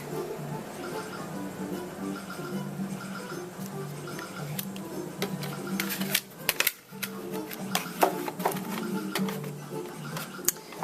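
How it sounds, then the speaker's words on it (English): A Cuttlebug machine cranks a paper card square through an embossing folder, a rhythmic low grinding rumble with scattered sharp ticks and clicks, close by, a voice talking faintly under it. "I'm embossing that little square there with the musical flourish"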